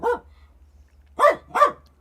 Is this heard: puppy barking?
yes